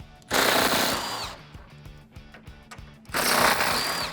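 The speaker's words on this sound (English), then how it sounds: "Grab your 8-socket and impact gun or ratchet and get them off." Impact gun rattling 8mm bumper bolts loose on a 2010-2012 Mustang, two loud bursts of rapid hammering with a quieter ratcheting stretch between them, close up.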